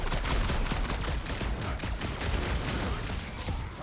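Gunfire in Marvel's Guardians of the Galaxy video game, a rapid, loud continuous volley of shots with crackling impacts and booming low rumble running throughout.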